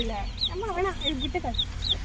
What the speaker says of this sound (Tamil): இது வந்து திருப்பி உயிர் வந்த கோழி குஞ்சு